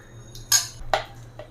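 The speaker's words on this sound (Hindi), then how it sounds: "2 चम्मच डालूंगी मैं भर के दही" A spoon clinks and scrapes against a bowl as curd is added for lassi over ice, three short close metallic taps in quick succession with a faint background hum.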